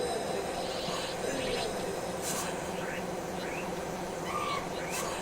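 Small flying creatures buzz in the Sega Genesis game Sword of Sodan, a steady droning hum with faint chirpy blips laid over continuous game sound.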